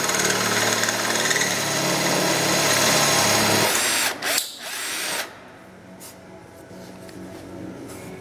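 A power drill with a 5/16 bit whines loudly as it bores into wood for a few seconds, then stops, leaving quieter rattles and handling noise.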